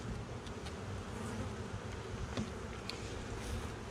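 Honey bees hum in a dense, continuous drone around an open hive with brood on the frames, a close, steady buzz with a few brief higher flicks as individual bees pass near.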